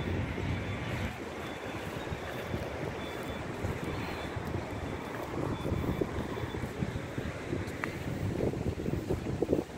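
Strong wind roars and buffets the microphone continuously, with rushing water beneath it and no voices, at a park pond in winter.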